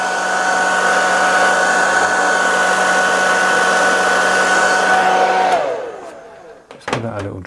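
A hair dryer blows steadily and loudly to flash-dry airbrushed acrylic ink, holding a constant whine for several seconds before switching off and winding down, followed by a couple of faint clicks.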